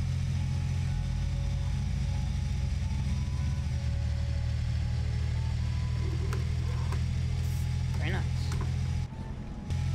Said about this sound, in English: This bus sounds very good,